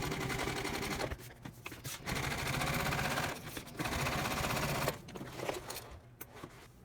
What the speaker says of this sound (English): Let's stitch these down and out of the way though.